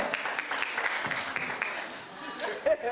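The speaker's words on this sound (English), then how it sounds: "By clapping, we're going to go around by clapping." Audience members at a murder mystery event clap their hands to vote, giving a short burst of mixed applause mingled with voices.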